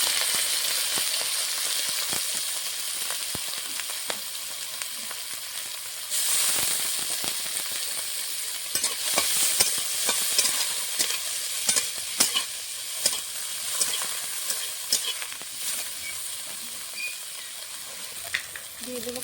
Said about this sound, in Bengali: খোসাটা ভেজে নেব।